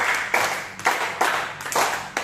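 An audience of adults claps out the rhythmic 'tepuk 5' pattern: repeated tight bursts of many hands in a steady beat, fairly loud in a room, with no talking.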